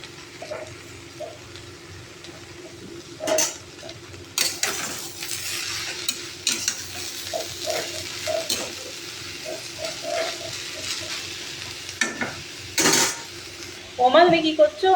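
Leafy greens, including a little red amaranth, being stirred in a pan while cooking a spicy rui fish dish: a steady run of scraping, clinking utensil strokes against the pan, with light sizzling and a few louder clanks.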